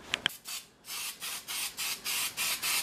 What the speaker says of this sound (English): I take some spray adhesive and I spray adhesive the one side of it